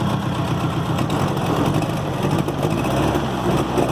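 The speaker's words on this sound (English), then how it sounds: "So it's running on 2 cylinders right now," A Volvo 240 engine running rough on only two cylinders, smoking, with a steady uneven mid-range drone that continues without a break, close by and loud, with no talking.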